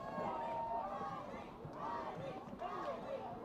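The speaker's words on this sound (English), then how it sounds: "Listen to the crowd." Crowd noise at a high school football senior night game, a steady roar of many voices rising and swelling in waves across the stands, mixed with a commentator's speech.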